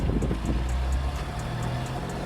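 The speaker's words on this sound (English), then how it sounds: "We're going over a lot of bumps right now, and the suspension feels really good." A 1963 Chevrolet Corvair Monza Spyder rolls over a string of bumps, with a low engine and road rumble underneath and soft, evenly spaced thuds from the suspension.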